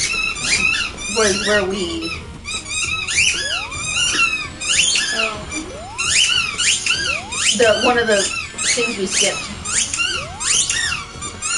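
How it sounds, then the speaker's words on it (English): A dog plays with a squeaky toy, giving repeated high, rising squeaks in quick bursts throughout, mixed with lively talk and game sounds in a home setting. "Can you hear the dog playing with a squeak toy?"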